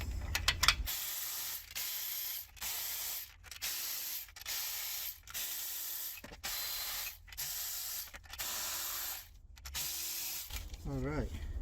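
A cylinder head bolt being loosened and removed on a Toyota Previa during a head gasket job, with repeated ratcheting bursts separated by short pauses, hissy and mechanical, close up, ending in a brief squeak.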